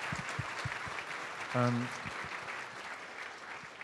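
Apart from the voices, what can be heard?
audience applause for Brother Mahmoud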